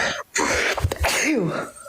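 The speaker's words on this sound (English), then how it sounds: "I gotta sneeze again." A person sneezes once up close, a sharp burst with a throaty edge, and a brief spoken exclamation follows.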